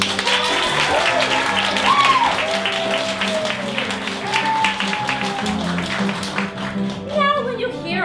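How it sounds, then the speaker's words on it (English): Vaudeville musical show audience practicing applause, a sustained bed of clapping and crowd noise with a voice speaking over it and a few musical tones toward the end. "let's see if you're ready to be a true vaudeville audience. On the count of three, let's hear you practice your applause."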